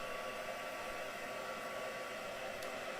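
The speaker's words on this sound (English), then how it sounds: "So I'm just drying these off." A hair dryer blowing steadily on ink-sprayed toadstool craft pieces, a constant close whooshing roar through the whole stretch with no talking.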